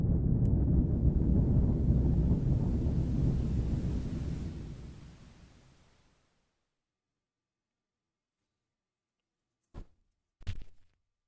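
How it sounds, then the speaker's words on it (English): An avalanche in a video game rumbles loudly as a deep, rolling roar that gradually fades out into silence over several seconds, followed by two brief soft thumps. "Oh, that was probably going to cause an avalanche."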